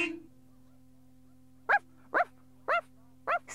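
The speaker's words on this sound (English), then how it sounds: "Suddenly we heard loud barking." Four sharp, loud barks from a puppy, evenly spaced after a brief quiet start, each short and high-pitched.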